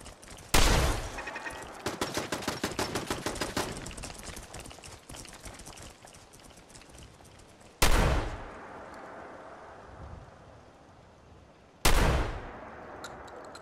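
Fallout 4 gameplay with gunfire and turrets: a burst of rapid automatic shots, then two loud separate blasts with ringing decays, all fairly close and sharp.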